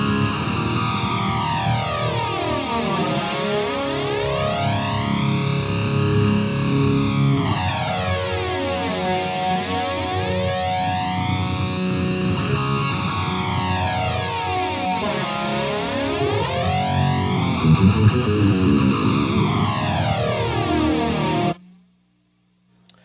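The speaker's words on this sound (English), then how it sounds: "It's the gray flanger after the amp." Electric guitar runs through a grey flanger placed after the amp model on a Line 6 Helix with a PRS MT15, giving a dense distorted tone with slow, deep sweeping whooshes that rise and fall repeatedly before cutting off abruptly.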